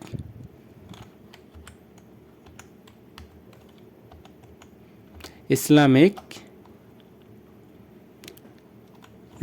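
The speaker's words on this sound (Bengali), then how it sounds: "সো আমি যদি এইখানে সার্চ বারে লিখি ইসলামিক" Typing on a computer keyboard while entering a search, heard as a faint, sparse run of light clicks over a low background hum, broken by a short, louder rustling burst near the middle.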